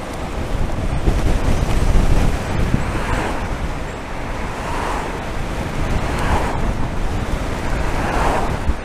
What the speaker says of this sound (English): I think the wind is a bit heavier at times, like a bit blustery